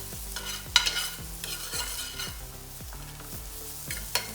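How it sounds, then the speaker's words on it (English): Sweet onions sauté in rendered bacon fat for bacon jam, with a soft, even sizzle and a regular run of spoon strokes scraping the pan. Two sharper clinks stand out. "let's go ahead and add our sweet onions to it. We want to saute them until they get translucent"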